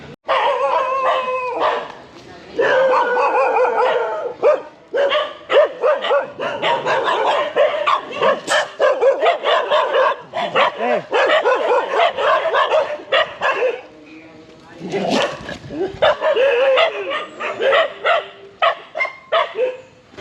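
Street dogs barking in Myanmar, several near loud barks and yips in irregular bursts with short pauses, some whimpering between them.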